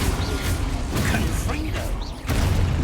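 Spell-casting effects from a wizard video game: a dense, steady wash of creaking, ratcheting mechanical textures with brief whooshes and crashes layered throughout, fairly loud, with a short dip near the end before resuming.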